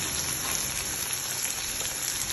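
Ingredients frying with salt in a pan for a Tamil vadhal kulambu, a steady soft sizzle and crackle of oil, even and unbroken, fairly quiet and close.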